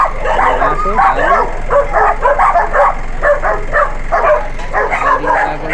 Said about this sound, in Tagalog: Ang aso, dami.